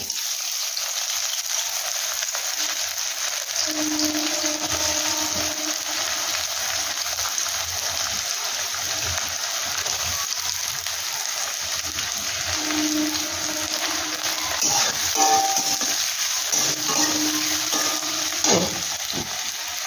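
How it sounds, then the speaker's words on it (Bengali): Whole garam masala and onion fry in hot oil on a gas stove, giving a steady, loud broadband sizzle that holds throughout, with a few brief stirring clinks and scrapes. "তেল দিয়ে আমি গোটা গরম মশলা দিয়ে দিচ্ছি, পেঁয়াজ,"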